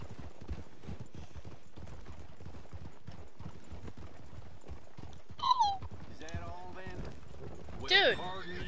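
Hooves clip-clop steadily under talking players in Red Dead Online, and a horse gives a couple of short whinnies near the end.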